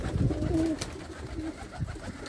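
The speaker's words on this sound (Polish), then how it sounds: "To jest mój najstarszy gołąb na gojemniku." Soft cooing from an old racing pigeon, a couple of low throaty calls, sits over a noisy, rumbling background.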